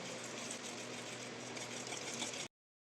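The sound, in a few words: warm milk poured into biscuit powder and mixed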